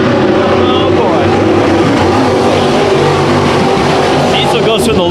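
Race cars roar loudly and continuously around Bakersfield Speedway during a heat race, several engines droning and whining together up close with no break, under a commentator's voice.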